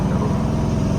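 Engine of a 1972 Pontiac GTO Judge tribute pulling hard in third gear, a loud continuous low rumble with steady pulsing from inside the car.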